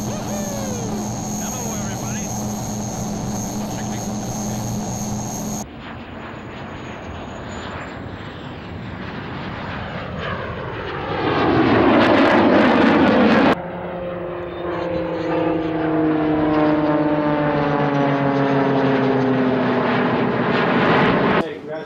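An aircraft from the White Knights flies a low pass over runway 12, its engine roar building and shifting in pitch as it sweeps close by, loud and sustained, with radio talk and voices over it.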